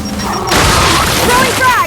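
A frag grenade goes off in Gears 5 with a loud, heavy boom that rolls into crashing debris, following a short stretch of game voices.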